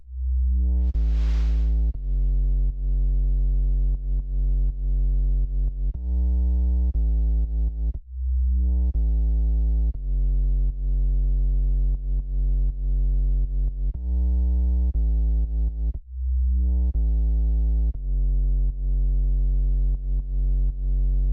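Heavy sub bass synth in Ableton 10, playing loud, sustained low tones in repeating phrases broken by brief gaps, with a short bright burst near the start.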